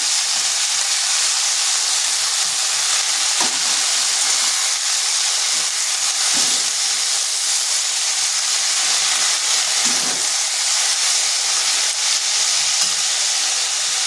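Squeezed, damp radish greens hit a hot pan and hiss steadily, a loud, even steamy sizzle with a few soft stirring knocks throughout.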